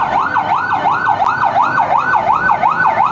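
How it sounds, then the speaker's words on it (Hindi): A fire brigade truck siren wails in a steady rising-and-falling cycle as heavy fire vehicles arrive at a basement fire under a bank building on a busy city road, loud and close, with crowd noise beneath and no talk. "ये हैवी गाड़ी आए हैं फायर ब्रिगेड"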